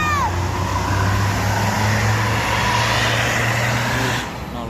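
Exhaust of a PO Haryanto bus (Al Kausar HM 080), a loud, close, steady low engine drone that fades slightly at the end, with voices in the background.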